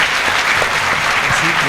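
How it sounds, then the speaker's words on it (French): Audience applause for comedian Pedro at a Guinean comedy show, a steady wash of clapping with some voices mixed in underneath. "encore une fois, applaudissez pour lui"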